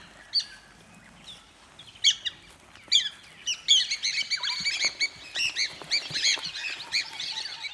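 Piapiak birds chirp and squawk in a busy run of calls beside grazing white rhinos in Uganda, sparse at first then building into dense overlapping calls.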